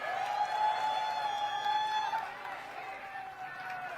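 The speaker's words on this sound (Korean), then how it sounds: "더욱 힘내시라는 의미로 남영애 위원장님께 다시 한번 큰 박수 부탁드립니다" Crowd applause and cheering at an outdoor political campaign rally in Incheon, a steady mass of clapping at moderate distance with voices over it.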